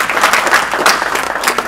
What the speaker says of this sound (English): So I'd like to give a round of applause to all our wives and spouses.